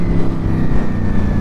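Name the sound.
Ducati V4S motorcycle engine during a wheelie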